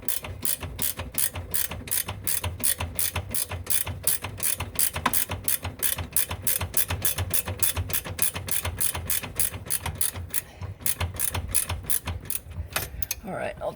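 A ratchet clicks in rapid, steady bursts while tightening a bolt during a sway bar install on a 2003 Civic, close and loud, pausing briefly near the end.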